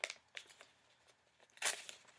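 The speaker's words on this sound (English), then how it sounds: "I just ripped my paper a little bit" Paper rips briefly while string is threaded through punched holes in a paper craft, a soft crinkly tear standing out from quieter rustling and handling noises.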